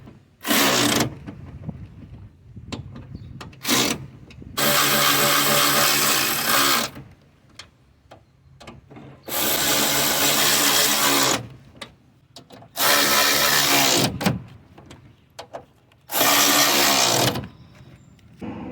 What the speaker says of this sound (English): Right now I'm gonna be tightening the 13mm bolts.